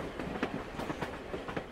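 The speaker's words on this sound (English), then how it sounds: "While Mary Lincoln with her sons Robert and Tad boarded a train and headed for Illinois." A train rolls along in a faint, rhythmic clatter of wheels over rail joints, soft rumbling beats repeating steadily with no voices.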